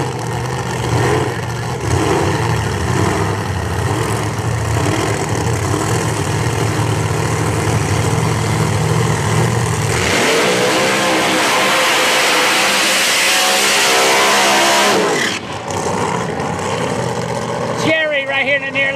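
A Ford Mustang drag car doing a burnout at Flying H Dragstrip during round 1 qualifying: a loud, continuous engine roar that rises into a harsher, broader tire-screaming blast before cutting off, with announcer commentary running over it.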